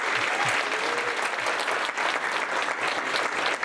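An audience applauds at an MFA graduation ceremony, with dense, steady clapping from a large crowd that stays loud and even throughout and carries no talk.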